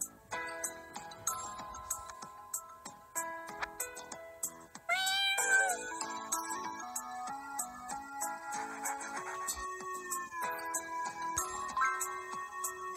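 A cat in a video game about a late boy sneaking into school meows repeatedly, in short, fairly close calls. The meows mix with bright, tonal game music and chimes.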